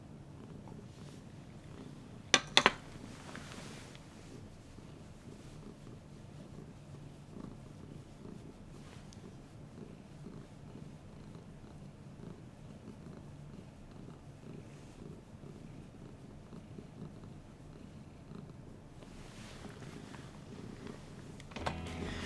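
A low, steady purr rumbles continuously and softly throughout, with a couple of brief sharp clicks near the start.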